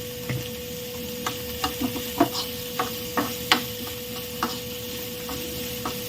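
Garlic with a pinch of salt gets stirred in a pan over the fire, a low steady hiss broken by a string of sharp scraping clicks of the spoon against the pan, close and alone without talk.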